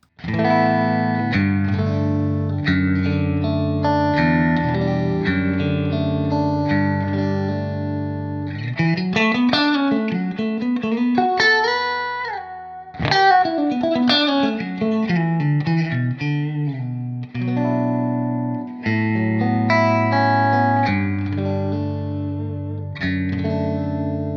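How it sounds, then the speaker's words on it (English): Clean tones from a Blackstar ID-X guitar amplifier, played as a continuous run of chords and single notes with chorus-like shimmer and light echo, steady and loud throughout with a short gap near the middle. "Let's have a listen to some of the clean tones."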